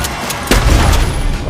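A heavy gunshot boom in a film bursts out after a couple of faint pops, followed by a rumbling, ringing tail.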